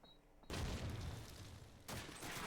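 A grenade blast and rifle fire in Call of Duty 2 arrive as a sudden loud burst after a quiet start, then a sustained rumble and a second surge of shots toward the end.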